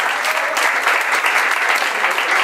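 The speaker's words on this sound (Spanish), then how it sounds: "también un aplauso fuerte para él." Loud applause from a crowd at a municipal inauguration ceremony, a dense, vigorous clatter of many hands clapping nearby, steady and unbroken from start to finish.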